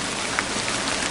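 Rain falls steadily in a mountain setting, a dense, even hiss of drops on surfaces with a few slightly louder nearby splashes, continuous throughout.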